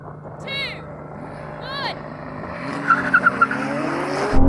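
A Ferrari 296 GTB, McLaren 765LT and Porsche GT2 RS launch in a drag race, engine noise swelling into a loud burst of tire chirps and roar near the end, with voices talking over the start.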